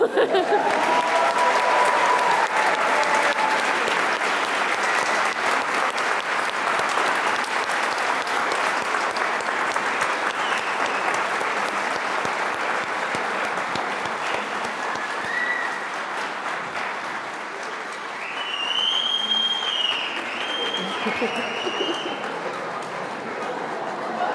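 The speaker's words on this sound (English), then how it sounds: "so feel free to applaud now" An audience at a medical school white coat ceremony for the class of 2021 applauds loudly and steadily for about twenty-four seconds, with scattered cheers and whoops rising over the clapping.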